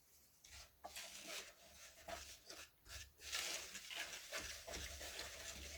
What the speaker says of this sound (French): Je vais venir mélanger tout ça au fouet.